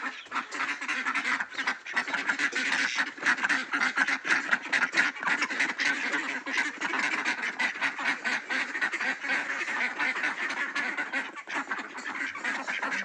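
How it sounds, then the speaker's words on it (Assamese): A flock of local domestic ducks quacks nonstop, dense overlapping calls at close range, loud and busy throughout with no talking. "পাতি হাঁহ।"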